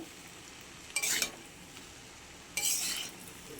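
Egg chow, flavored with pepper powder, stirred in a pan: two short, close scraping bursts of utensil on metal with a faint sizzle, separated by a quiet pause.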